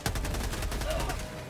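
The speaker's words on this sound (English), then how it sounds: "I got an anti-material rifle." Anti-materiel rifle fire in the Helldivers video game, a loud burst of rapid repeated gunshots and clatter packed close together amid battle noise, with no talk over it.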